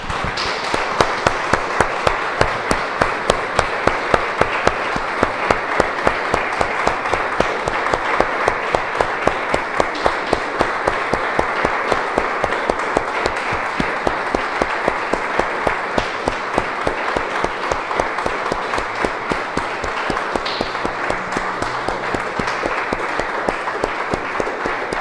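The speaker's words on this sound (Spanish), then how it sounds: "Damos un aplauso, hermanos, al Señor." A church congregation claps steadily and rhythmically in unison for a long stretch, dense and sustained, with faint voices mixed in beneath the clapping.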